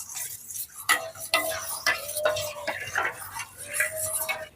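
A spoon scrapes and clinks repeatedly against a bowl while cornflour is mixed into warm milk, giving a steady run of nearby stirring strokes with no voices.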